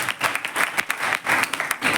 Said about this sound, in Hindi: आप अपनी तालियों की गड़गड़ाहट से उन बच्चियों का स्वागत करिए